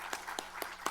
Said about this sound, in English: So if you would join me in a round of applause